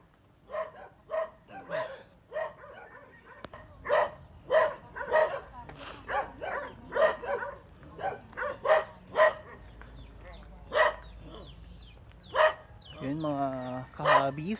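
A dog barks repeatedly at a steady pace from a moderate distance near rice fields in Pangasinan, sharp yelps in a long series, with a drawn-out whine near the end.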